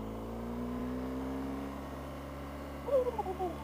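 A holiday car popping out of gear, its engine droning steadily at low pitch before a short rising rev flares up near the end, heard from inside the vehicle.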